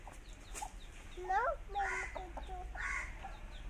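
Small chicken chicks cheep and cluck in a few short bursts close by at a home, with faint background noise between calls.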